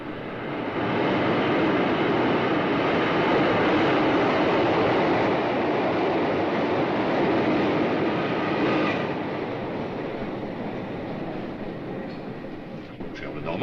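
A metro train rumbles past in a steady, loud, broadband roar that holds for most of the stretch before easing slightly toward the end, with no clear voices.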